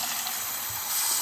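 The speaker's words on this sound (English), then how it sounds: "so let's go ahead and get some water in it" Water poured into a cup to root philodendron brasil cuttings, a steady close hiss of running liquid throughout with no talk.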